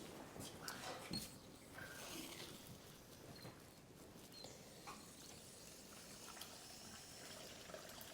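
Tap water running into a rubber glove until the hand section fills, a faint, steady trickle and gurgle heard close up with no one speaking.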